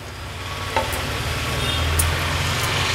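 Raw jackfruit bhaji cooks in a hot pan over a high gas flame, giving a steady close sizzling hiss with a couple of brief scraping stirs.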